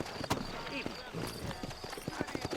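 Horses' hooves clopping in the video game Red Dead Redemption, a steady stream of sharp near hoofbeats mixed with game dialogue and background sound.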